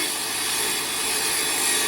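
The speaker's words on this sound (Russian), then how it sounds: "И вот решили попробовать на этой пиле." Continuous steady sawing of culture stone cladding for a fireplace, a dense rasping grind that runs unbroken and fairly loud throughout, with no voices.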